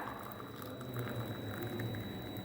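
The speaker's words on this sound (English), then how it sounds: "You have to take this hot water into the beaker" Hot water from a kettle pours into a glass beaker in a lab, a steady close bubbling, gurgling stream that runs without pause and with no talking.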